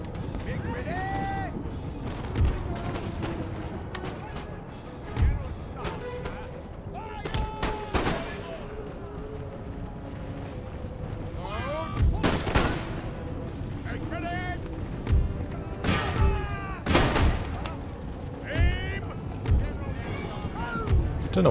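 Repeated musket volleys crackle and pop from a battle in Empire: Total War, with irregular bursts of gunfire over a constant battle din and occasional bugle-like tones, while someone talks over it.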